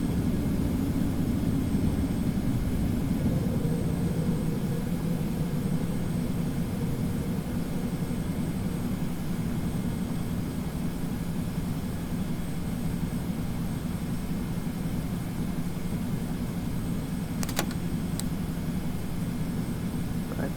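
Simulated Boeing 717 airliner engines roar steadily during the takeoff climb in the Prepar3D flight simulator, a constant loud broadband drone with a faint short click near the end.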